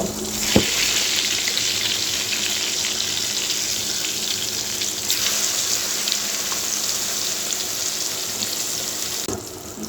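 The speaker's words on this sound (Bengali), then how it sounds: "এক পাশ হয়ে গেছে এখন আমি উল্টায় দিচ্ছি এপিট উপিট করে সুন্দরভাবে ভেজে নেব" Stuffed eggplant frying in a pan gives a loud, steady sizzle that continues throughout, with a sharp click near the start and another near the end as the pieces are turned.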